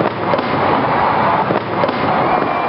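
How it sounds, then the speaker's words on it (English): Fireworks go off at a baseball game in Detroit: loud, continuous crackling bursts and pops fill the whole stretch with no pause. "The fireworks go off"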